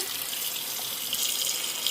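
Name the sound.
tap water filling bowl to soak lentils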